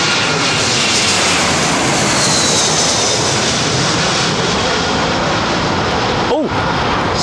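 A British Airways or Emirates Airbus A380 airliner comes in to land, its jet engines making a loud, steady broadband roar that holds through the whole stretch, with a brief whoosh near the end.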